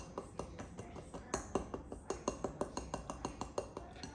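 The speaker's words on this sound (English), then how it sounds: "And then I'm gonna actually use this bowl." Dishes and a bowl clink and knock on a kitchen counter while party nuts are being prepared, in a quick series of small, close taps and clatters. No speech is heard.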